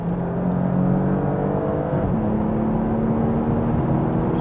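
A 2025 Porsche Panamera accelerates hard in second gear, its engine note a steady rising whir heard from inside the cabin, with a brief shift-like break midway before the pitch climbs again.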